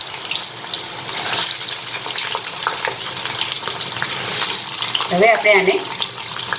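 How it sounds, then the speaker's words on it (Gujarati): Cold French fries lowered into hot oil for Indian street-food-style frying give a steady, bubbling sizzle that hisses on throughout, while someone talks over it. "હવે આપણે આ બધી ફ્રેન્ચ ફ્રાઈઝ તેલની અંદર ધીરે ધીરે નાખીશું।"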